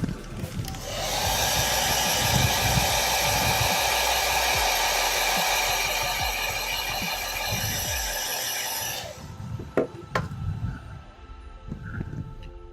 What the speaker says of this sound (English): Let's put it on the blower.